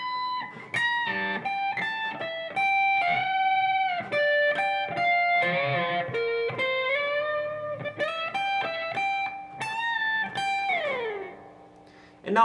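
Guitar playing part 6 of a song at slightly below full speed, heard as a sustained melodic line with bends and slides, close and clear with no voices.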